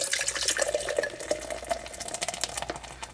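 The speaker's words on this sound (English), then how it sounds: "Let's give it a pour, shall we?" An 11% ABV craft beer being poured into a glass, a steady hissing, bubbling liquid stream with fizzing splashes, close and continuous for a few seconds.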